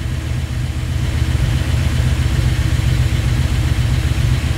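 A freshly rebuilt Pontiac 400 V8, bored out to 470, idles after its first fire, a loud, steady, close low rumble with a rhythmic throb and no talking.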